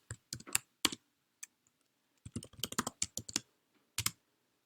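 Computer keyboard being typed on in short bursts of crisp clicking keystrokes, quiet and close, with pauses between clusters and no talk.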